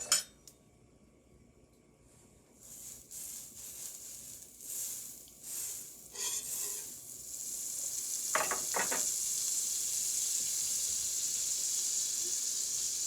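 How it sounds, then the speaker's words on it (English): Steady sizzling of butter builds in a hot frying pan after a few metallic clinks and scrapes, the hiss growing louder and continuous toward the end. "Let's add some butter to our hot pan."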